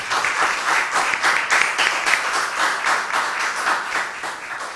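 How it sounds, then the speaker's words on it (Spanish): A church congregation applauds during a Mass for the Assumption of the Virgin Mary, steady dense clapping filling the space at even loudness throughout with no voices over it. "Un aplauso para la Virgen."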